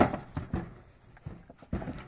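A Percheron mare's hooves clip-clop on hard ground, several distinct irregular hoofbeats close by with quiet gaps between them.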